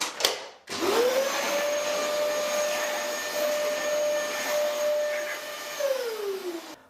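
A Shark cordless vacuum cleaner with a powered lift-away and anti hair wrap spins up after a brief knock, holds a steady, loud motor whine with a high tonal hum, then winds down at the end.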